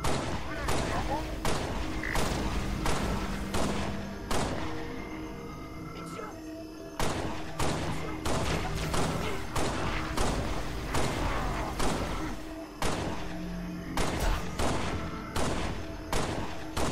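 Repeated pistol shots in the sci-fi video game Halo: Spartan Strike ring out as loud, evenly spaced cracks, steady throughout with thumps and game effects and a voice talking at times.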